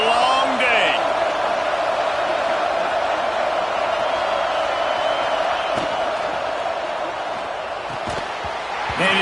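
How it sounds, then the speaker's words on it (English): Football stadium crowd roaring at full throat after a first down, a loud, steady wash of cheering and noise filling the whole stretch with a few sharp slams and whoops rising out of it. "This crowd, full throat, splitting the eardrums"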